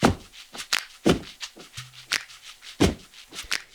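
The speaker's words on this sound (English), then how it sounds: "say I want stomps in this. Just click on stomp." A programmed stomp percussion pattern from Logic Drummer plays alone, a series of punchy, dry foot-stomp hits in a steady, syncopated rhythm.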